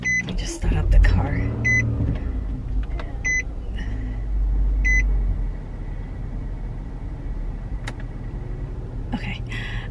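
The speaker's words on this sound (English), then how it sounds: "let me just start up the car" A car starting up after a shopping trip: low engine rumble rises and settles while several short electronic chimes ring out, with an indoor-vehicle hush and brief movement noises around it.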